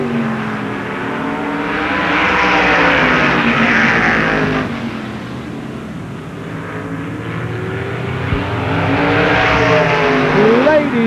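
Winged outlaw sprint cars racing at Baer Field Speedway in 1997, engines roaring as a pack sweeps past with rising and falling pitch, loud and continuous, under a faint announcer voice.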